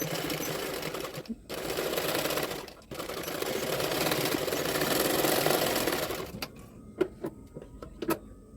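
A sewing machine runs steadily for about six seconds while stitching folded extra fabric on a double katori blouse, then gives several short separate bursts and clicks as the seam is finished.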